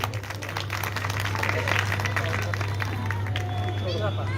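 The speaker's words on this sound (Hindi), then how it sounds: "ताली बजा दीजिए।" Audience clapping at a Shrimad Bhagavat Katha gathering in Sarsawa, a scattered crowd applauding over murmuring voices and a steady low hum.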